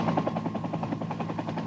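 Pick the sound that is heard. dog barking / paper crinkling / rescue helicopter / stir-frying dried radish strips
rescue helicopter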